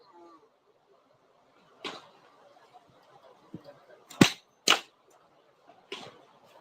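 Several sharp gunshots crack at an outdoor cowboy action shooting match, spaced irregularly with two close together, moderately distant over a faint murmur of voices.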